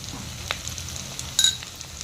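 Ground spices, coriander, cumin, turmeric and Kashmiri chilli, sizzling in oil in a wok for Bengali rui fish kalia, a steady soft crackle with a brief louder stir near the end, no talk.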